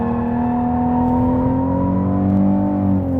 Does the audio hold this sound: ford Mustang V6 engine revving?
yes